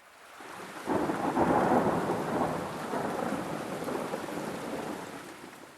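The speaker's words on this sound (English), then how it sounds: "Thunder rumbles across the sky." Deep thunder rolls through a storm with steady rain falling, starting with a sudden loud swell after a near-silent opening and then rumbling on, slowly fading, with no voices.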